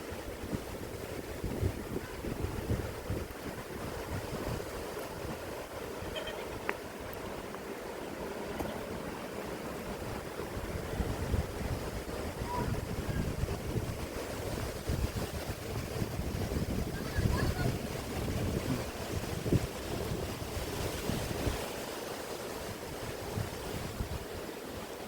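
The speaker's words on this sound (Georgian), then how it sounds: "ისეთი მაგარი ქარია" Strong wind buffets the open hillside at Martkopi monastery in Georgia, a steady roaring rush with low rumbling gusts that swell and ease throughout, no voices.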